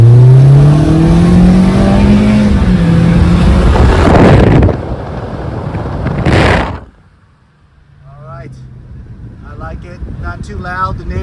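A Toyota Corolla E210 hatchback with an EOS quad tip cat-back exhaust revs loudly up and down nearby, a sharp rev flare then cut to near quiet, followed by faint idle with a voice speaking over it.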